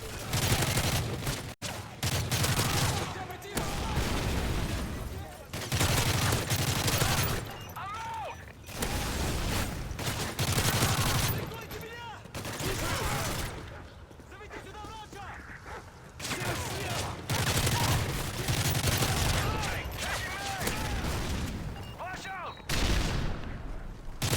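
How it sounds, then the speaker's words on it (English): Gunfire in Call of Duty: Modern Warfare 3, repeated bursts of shots and rapid fire in loud clusters separated by brief lulls, with mechanical clatter and voices talking between volleys. "Literally, most of those shots missed because I was going for a headshot."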